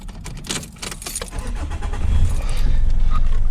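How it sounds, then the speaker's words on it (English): A car engine cranks and catches, starting up in a workshop at night, then settles into a steady, close idle that grows louder and fuller toward the end; a faint jingle of keys comes first. "I'm just going to start this car and get the air conditioning going"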